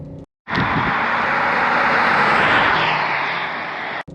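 A 1990s BMW 735i E38 sedan accelerates on a road, its engine and road noise rising into a loud, steady roar after a brief silence and then easing slightly before cutting off.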